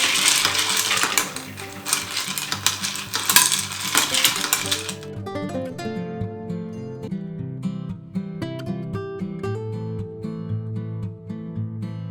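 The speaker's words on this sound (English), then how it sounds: "Now we're going to stir for about 20 to 40 seconds." Ice clinks and rattles continuously as a mezcal cocktail is stirred, with a bright, busy jingle at first that settles into lighter, ringing clinks.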